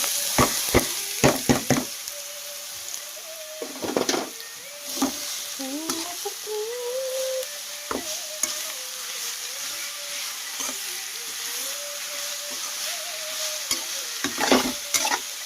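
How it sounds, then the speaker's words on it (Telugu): Onions frying in a pan until light brown, a steady broadband sizzle with repeated sharp scraping clicks of a spoon stirring, plus a faint tonal hum running underneath throughout. "ఇంకా ఉల్లిపాయలు అయితే లైట్ బ్రౌన్ కలర్ అయితే వచ్చేంతవరకు అయితే వేపేసుకుందాము"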